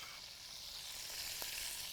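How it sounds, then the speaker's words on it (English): Cabbage frying in a skillet with bacon drippings gives off a short, steady sizzle, close and fairly loud, with a faint scrape of stirring. "as I cut it, I'm going to add it to the skillet with the bacon and all those drippings"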